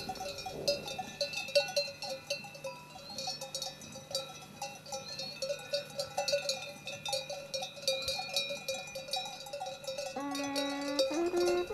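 Podhale shepherd bells, made of metal with clappers cut from a nail or piece of wire and hung on leather straps around livestock necks, clank and jangle continuously in an irregular overlapping rhythm at moderate distance.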